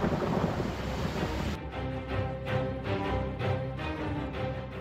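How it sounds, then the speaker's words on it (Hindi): Torrential rain pours down in the mountains, a loud dense hiss over deep rolling thunder, with the roar continuing as several sharp gusts and bursts pulse through the downpour. "पहाड़ों पर हो रही मूसलाधार बारिश का अंजाम कुछ इस तरह से नजर आया।"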